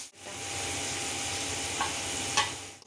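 Spices with turmeric, salt, chopped green chilli and tomato fry in a pan, producing a steady hissing sizzle with a couple of brief stirring scrapes near the end, close and without talk.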